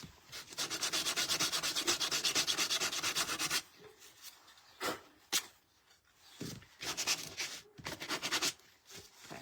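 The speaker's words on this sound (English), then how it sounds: "so we'll sand down there." Sandpaper rubs rapidly back and forth along the edges of a wooden ladybug door hanger, a long steady run of scratchy strokes, then shorter intermittent passes, close and fairly quiet.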